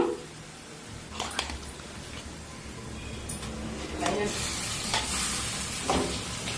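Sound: onions frying in a pan for chicken curry

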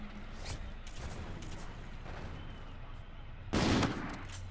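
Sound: sniper rifle gunfire in Call of Duty Infinite Warfare video game

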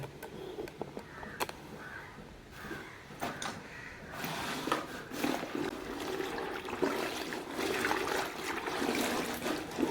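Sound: school bags being put into and stirred in water

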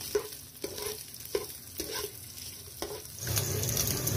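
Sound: pork frying in oil in a wok, being stirred

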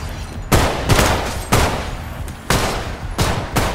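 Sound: rifle gunfire in a video game

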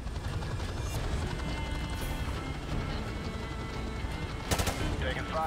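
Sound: gunfire in video game Modern Warfare Remastered

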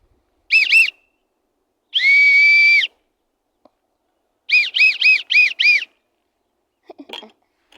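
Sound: referee whistle blown

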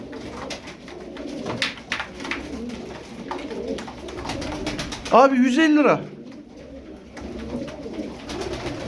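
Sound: Arab tumbler pigeons cooing

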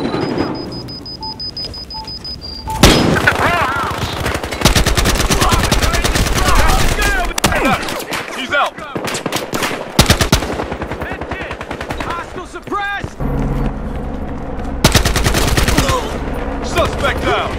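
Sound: machine gun gunfire in Battlefield Hardline video game

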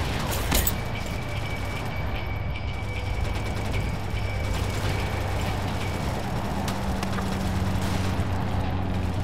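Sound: gunfire in the video game World War Heroes

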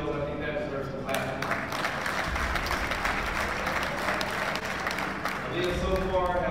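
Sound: audience applause

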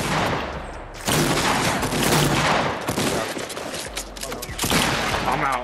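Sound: shotgun gunfire in Fortnite Battle Royale, a video game

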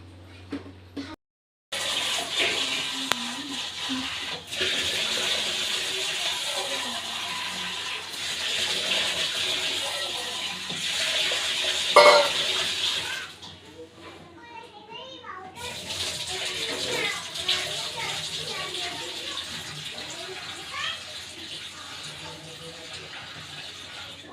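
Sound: washing soaked wheat grains in water

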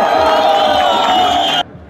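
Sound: crowd applauding and cheering at a rally

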